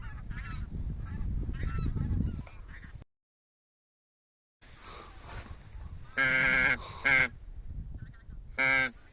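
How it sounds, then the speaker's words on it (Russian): Geese honk repeatedly in flight during a May goose hunt, loud calls in bursts with a short silent gap, over faint background noise and wind. "Гусь пошел на юг."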